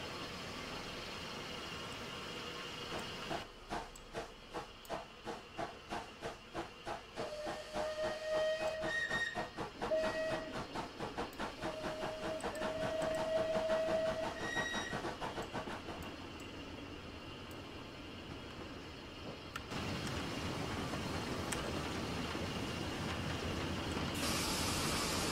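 The Merchant Navy locomotive Clan Line in Train Simulator 2020 on the Paignton to Kingswear line gives several whistle blasts over a continuous steam hiss and rolling rail noise, the tones rising and stopping in turn.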